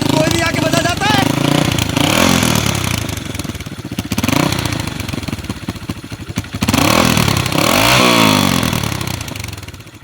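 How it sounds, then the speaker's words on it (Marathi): A stunt motorcycle with a torn silencer revs hard and backfires in a loud, close, uneven run of rising and falling engine bursts lasting several seconds, with voices talking over it. "म्हणून ती तशी फायरिंग देतात, कारण की सायलेन्सर बिलेन्सर फाटलेलं सगळं."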